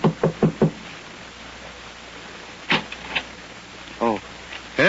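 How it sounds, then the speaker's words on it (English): Sharp knocks on a wooden door in a 1942 radio drama, a quick burst of four raps and then a few more scattered knocks, close and crisp, with a brief voice-like sound near the end. "knocks at the door of number"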